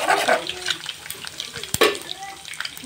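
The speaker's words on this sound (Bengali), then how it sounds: "ডিমটা ফ্রাই করে নিলাম" Egg frying in hot oil in a home kitchen pan, a steady sizzle with stirring and scraping throughout, one sharp clack near the middle, close and fairly loud with no talk.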